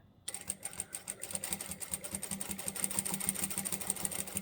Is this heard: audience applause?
no